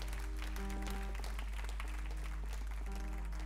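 A church congregation applauds during a sermon, a dense wash of clapping layered with loud music tones and a steady low hum, continuous across the short span.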